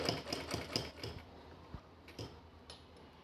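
A domestic sewing machine stitches lace onto a table cover cloth in quick bursts of rapid mechanical clatter, then stops, leaving a few isolated clicks and taps nearby.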